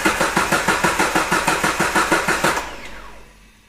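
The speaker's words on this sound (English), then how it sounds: "this is going to touch our starter to tell us if our starter is good or not" A Jeep Wrangler LJ Rubicon starter motor cranks when jumped directly by cable, a fast rhythmic whirring chug of about a dozen even pulses that stops and spins down, loud and close with no talk.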